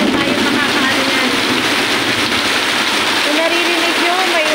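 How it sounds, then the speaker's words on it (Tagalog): Typhoon Enteng rain roars in a constant, loud wash of noise in Bulacan, continuing without a break while someone talks faintly beneath it. "ganito pa rin kalakas yung ulan dito sa amin"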